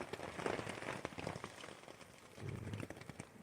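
Soft, steady pattering of rain on a taut tent fly, with scattered louder drops tapping close by and no voices.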